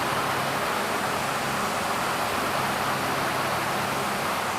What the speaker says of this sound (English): we're hearing the fan whirring in its cage